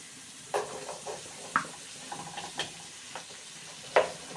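Okra and onion cooking in a pan for a home breakfast, with soft sizzling under a handful of sharp clinks and scrapes of a spoon stirring, close and fairly quiet.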